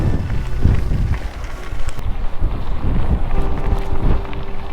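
Heavy wind buffets the microphone during a mountain bike ride on Minorca, a continuous low roar and rumble, close and loud throughout, with no voices.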